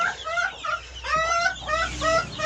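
A broody hen clucks close by in repeated short, rising bursts with brief pauses between them, with no other sounds.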